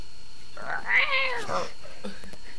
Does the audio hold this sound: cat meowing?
yes